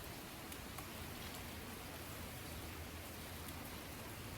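Steady rain falls in an even, soft hiss with no breaks and no voices, quiet and diffuse throughout.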